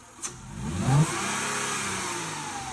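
A serviced Mercedes W203 car engine is revved once, climbing sharply to a peak and then easing back into a steady, smooth high idle close by, with no voices.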